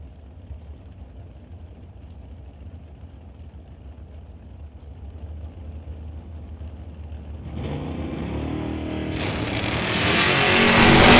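A 1978 Z28 lines up against a dragster at a drag race, engines rumbling at a distance before a loud roar builds and surges up close near the end, growing steadily louder.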